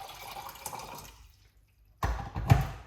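Red apple, ginger and lemon juice pours into a glass in two bursts, a soft trickling splash that fades into silence, then a louder gush with a liquid gurgle near the end, no speech.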